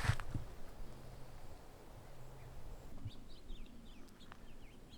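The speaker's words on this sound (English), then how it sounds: "I think it's just the birds." Faint bird calls chirp in quick bursts in a distant forest, with a soft low rumble of outdoor ambience and a couple of quacking notes early on.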